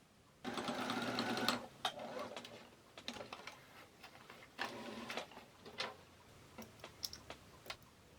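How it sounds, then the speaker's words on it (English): Sewing machine stitches a welt flap on a Victorian-style waistcoat, running in two loud, fast buzzing bursts separated by pauses filled with ticks and clicks of the fabric being handled. "sew on that welt flap"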